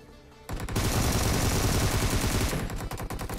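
Automatic gunfire in the BGMI battle royale shooter, a sustained loud burst of rapid shots lasting a few seconds and ending in a few separate trailing shots.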